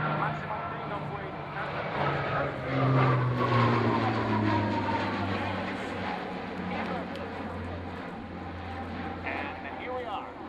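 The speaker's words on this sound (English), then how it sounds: "here we are, accelerating again on the runway" A heavy aircraft at maximum takeoff weight accelerates along a runway, a loud, steady engine roar with a slowly rising tone, heard from inside, with voices talking over it.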